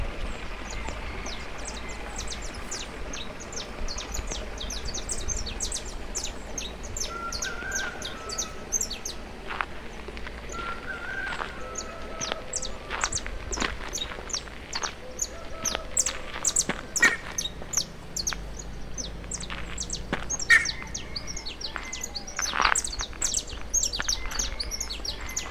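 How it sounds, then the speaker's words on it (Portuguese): Several birds chirp and sing outdoors in a hillside forest in São Paulo state, Brazil, a steady mix of tweets and calls over quiet ambient background, varying near and far. "Escute o som da natureza e o cantar dos pássaros."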